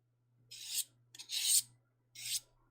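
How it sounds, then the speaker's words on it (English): Three slow rasping hand-saw strokes cutting out a Star-Lord mask, each a short scratchy pass separated by brief pauses, with a low steady hum underneath. "gingerly sawing down to that corner"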